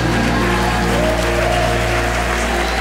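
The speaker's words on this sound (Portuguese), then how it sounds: "Se você crer, diga aleluia e aplauda o Senhor Jesus" Church congregation clapping along at a worship service, a dense, steady wash of applause under sustained musical tones that fills the whole clip.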